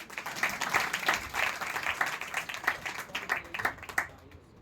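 Brisk clapping from a small Mother's Day gathering, several seconds of uneven hand claps up close that thin out and fade at the end.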